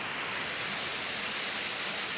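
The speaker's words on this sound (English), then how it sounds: "That lovely waterfall." A waterfall swollen with snow melt on the way to Goldsborough in winter gives a steady, dense rush of falling water, broad and unbroken, with no voices.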